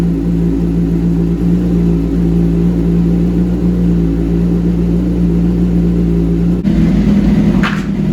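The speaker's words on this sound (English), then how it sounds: "is a cold startup on a 2001 GSXR 1000 that is very close to brand new." A 2001 Suzuki GSX-R 1000 motorcycle idling just after a cold start, a loud, close, steady engine hum that shifts to a rougher, deeper tone near the end.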